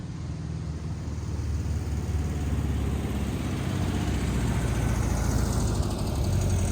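A Volkswagen Beetle engine idling at a steady, even low rumble with a fine ticking texture, continuous and moderately close, with no talking.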